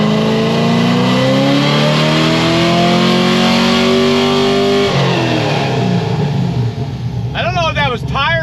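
A car engine revs hard at wide open throttle on a dyno, a loud close roar climbing steadily in pitch for several seconds before dropping off, with a short squeal or clatter near the end.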